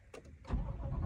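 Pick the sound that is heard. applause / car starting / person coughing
car starting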